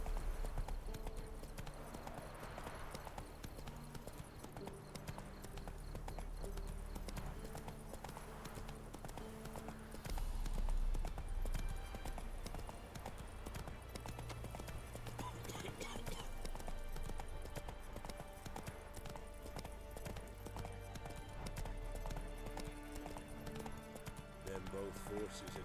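Roach the horse gallops in The Witcher 3 with steady rhythmic hoofbeats under in-game music and battle noise, while a player talks over the action.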